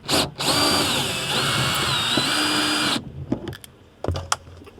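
A power drill runs loud and steady for about three seconds while backing out a hex bolt in a van cab, then stops, followed by scattered clicks and handling knocks.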